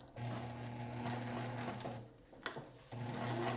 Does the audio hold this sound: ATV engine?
no